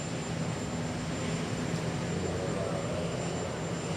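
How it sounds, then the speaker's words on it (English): A helicopter departing Capitol Hill after a presidential inauguration, a constant broadband engine and rotor roar at moderate distance that holds steady without pause. "The Obamas will be leaving by helicopter."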